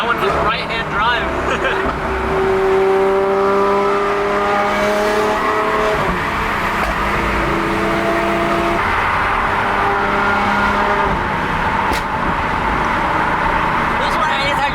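A Lamborghini Aventador SVJ's V12 engine screams from inside the cabin on a ride-along, loud and continuous, rising in pitch and dropping back at each shift, with people talking over it.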